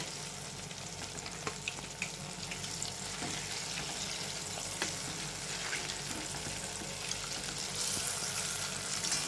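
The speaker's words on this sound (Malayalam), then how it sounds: "ഇനി ബാക്കിയുള്ള മാവും ഏത്തയ്ക്ക കൂടെ ഇങ്ങനെ ഡിപ്പ് ചെയ്ത് വറുത്ത് കോരുക" Ripe plantain slices dipped in batter fry in hot oil for a Kerala tea-time snack, giving a steady, dense sizzle and crackle that runs unbroken throughout, close up and with no talking.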